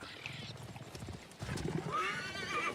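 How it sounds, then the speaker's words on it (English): A horse in Assassin's Creed Origins answers a call with a loud, rising whinny near the end, preceded by soft rumbling and hoof movement amid game ambience. "Get down off this rock right here and call the horse."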